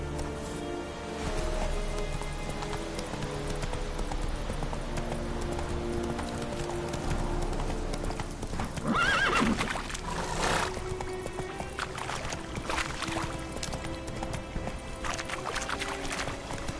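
A horse in the video game The Witcher 3 gallops with steady rhythmic hoofbeats, and a whinny breaks through midway over an ambient game background.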